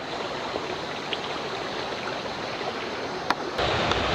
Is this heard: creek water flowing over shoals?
yes